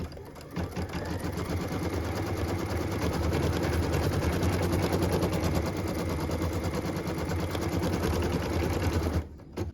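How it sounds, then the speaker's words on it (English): A sewing machine stitches a placement line through cashmere fabric on a small round Christmas ornament, running as a fast, continuous, close mechanical chatter for nearly ten seconds before stopping. "I'm going to stitch the house placement line, and we're going to do that right in the center of our cute little circle"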